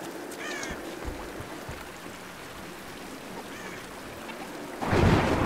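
Steady rain patters under faint crow caws in Tomb Raider, and a loud crack of thunder bursts in near the end.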